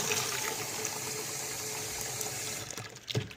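Water pours steadily into an Xfoamr foam sprayer being filled to about 500–600 milliliters, a continuous close rushing that tapers to a few splashes and drips near the end.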